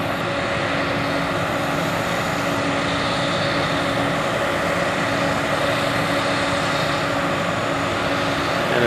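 A John Deere 9600 combine works a field of peas and wheat, giving a constant heavy engine roar with no breaks, loud and close for the whole stretch.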